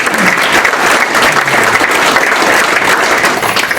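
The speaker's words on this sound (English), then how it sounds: "Please give Wayne Wilcox a round of applause." Audience at the 2022 Piqua City Schools Alumni of Distinction ceremony clapping, a steady burst of applause from a room full of people holding at an even level to the end.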